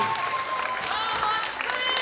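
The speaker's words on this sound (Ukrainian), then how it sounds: "Бачите, чекають ще ваших оплесків, наші учасники." Applause from a festival audience at a classical and pop dance show in Kherson, a short, even burst of clapping with some voices and whistles over it.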